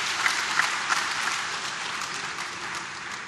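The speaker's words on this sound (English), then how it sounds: "Now you can give yourselves a round of applause," Audience at an Ekiti 2018 political debate breaks into a steady round of applause, dense broadband clapping filling the room at an even level for a few seconds with faint crowd murmur beneath.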